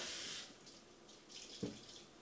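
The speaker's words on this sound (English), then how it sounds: "I'm going to fill this with cold water" A kitchen tap runs into a pot, filling it with cold water: a faint, steady hiss of flowing water with one small splash or clunk near the end.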